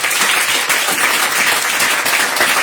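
A congregation at a worship service claps steadily to acclaim Jesus, a dense, continuous wash of applause from many hands that holds level throughout without pause.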